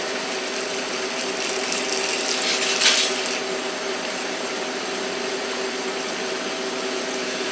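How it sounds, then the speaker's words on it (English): Steady broadband rush of water pouring into a container of Cherokee Purple tomato seeds for fermenting, constant and close, with a brief clink partway through. "But I'm going to add this water."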